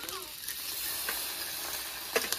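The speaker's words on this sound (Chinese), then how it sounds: "我就先放这个下去炒一下先" Stir-frying in hot oil in a home kitchen pan, a steady close sizzle and hiss with small scraping stirs, and a brief voice at the start.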